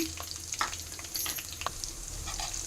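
Whole spices such as cinnamon, cloves and coriander seeds fry lightly in hot oil in a pan, a quiet steady sizzle with small crackles and pops and occasional stirring scrapes, close and soft.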